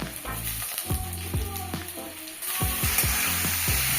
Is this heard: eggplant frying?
yes